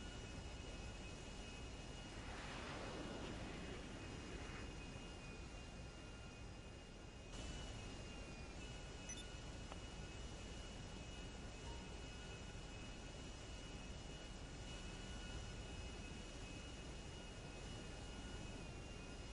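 A steady, droning military jet engine in cruising flight in GTA V, a continuous even roar with a faint tonal whine, heard inside the aircraft without talk.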